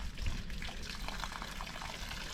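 Steady gushing spray of water from a garden hose running over a duck carcass as it is washed, continuous and close, with no other sounds.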